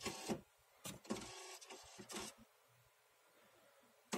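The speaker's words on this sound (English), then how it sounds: "After this combination, your printer will restart" A Canon MP250 inkjet printer restarts, giving a few short mechanical whirs and clunks followed by a quieter steady hum, faint and close, with no talking.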